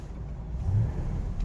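A Mercedes-Benz 420 SE with a 4.2-litre V8 runs at a steady, smooth idle, a low continuous engine rumble close by with a slight swell midway and no talk over it.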